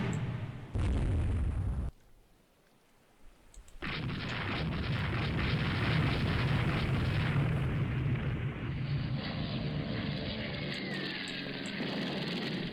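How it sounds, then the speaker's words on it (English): In a Rule the Waves 2 naval battle, a bomb strikes a ship with a brief heavy blast, a short near-silent lull, then a long roaring rumble of explosion and fire that keeps going under steady noise. "Oh, we have a bomb hit."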